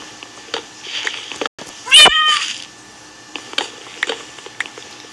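A single clear cat meow in a video game stands out amid soft clicks and small sounds, close and fairly loud.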